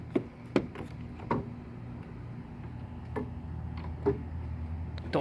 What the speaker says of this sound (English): I'm going to grab this and loosen this bolt right here, and I'm going to loosen this next bolt right here